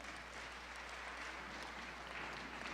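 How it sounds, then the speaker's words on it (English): Steady, dense applause from an audience at a middle school event, a continuous wash of clapping at moderate level with no single hands standing out. "Let's give her a big round of applause."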